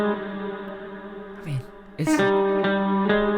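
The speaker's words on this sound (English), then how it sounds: "I just love this reverb so much" A sustained synth or instrument tone runs through a reverb plugin with a long tail, the notes blooming and smearing into a spacious wash, interrupted briefly by short spoken words.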